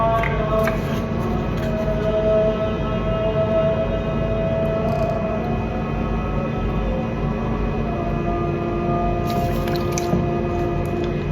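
Juice poured and shaken into gelatin powder for a sugar-free jelly, giving a steady wet squishing and dripping over a constant low background hum, with no talk.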